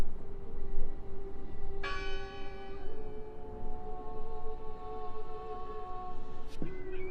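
A church bell in the horror game Draugen strikes once with a clear ringing tone that hangs and slowly decays over a low ambient drone, followed by a faint second clank near the end.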